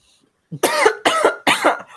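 Three quick coughs in a row, close and fairly loud, after a brief soft throat sound.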